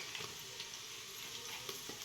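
Whole spices—bay leaf, cloves, cinnamon and cardamom—sizzle in hot oil for masale bhat, a steady close crackle with a few sharper pops and stirs, no voices.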